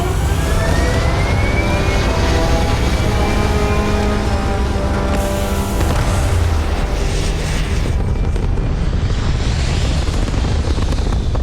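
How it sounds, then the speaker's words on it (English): Spaceship thrusters in Starfield roar in a loud, continuous rumbling blast with a rising whine layered on top, sustained throughout like a powerful engine burn. "All thrusters firing."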